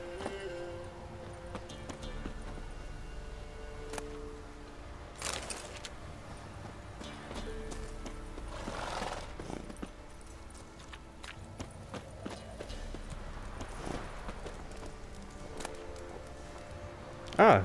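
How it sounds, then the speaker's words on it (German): Hooves clip-clop steadily as a horse is ridden in The Witcher 3: Wild Hunt, the rhythmic steps running low under game ambience and background music for most of the stretch. "ich wusste gar nicht dass ich auf fremde Pferde reiten kann"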